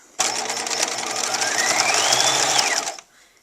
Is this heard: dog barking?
no